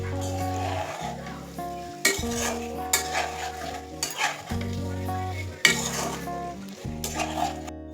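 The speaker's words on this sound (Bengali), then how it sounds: "এবার মশলার সাথে পটল আলু ভালোভাবে মিশিয়ে আরও 1-2 মিনিট আমি কষিয়ে নেব।" Fried pointed gourd and potato stir-fried with spices in a pan, repeated scraping and clattering strokes of a spatula over a hissing sizzle, with a steady low hum underneath throughout.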